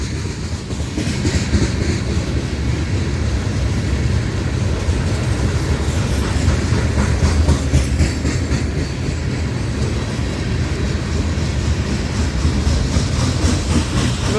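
A Florida East Coast Railway train rumbles steadily past close by at a meet in St. Augustine, Florida, wheels clacking over rail joints with a constant loud roar throughout.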